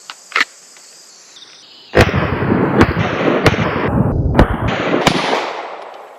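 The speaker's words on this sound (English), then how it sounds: "So with no further ado, 5 quick shots," Five quick pistol shots fired at 10 yards with a red dot optic on a concealed carry handgun, loud sharp cracks in rapid succession about a second apart, each echoing into a sustained wash, following a faint click before the string.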